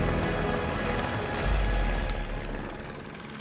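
A helicopter's steady low rotor rumble and engine whine fill the clip, loud and continuous without a break.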